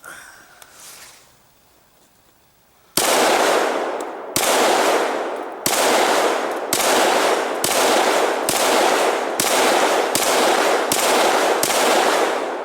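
A SIG 551 Swiss rifle fires ten loud, sharp semi-automatic shots at a steady pace, each one cracking and then ringing out briefly, after about three seconds of quiet outdoor background.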